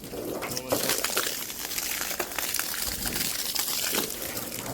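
Water is sprayed onto a vehicle to wash it, producing a steady hissing splash against the bodywork, close and moderately loud, with a few brief interruptions.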